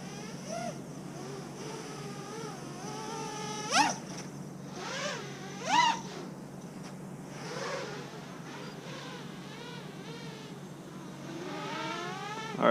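A TBS Source 2 quadcopter racing drone buzzes through the air, its motors whining and rising in pitch with throttle bursts, moderately near and fading in and out.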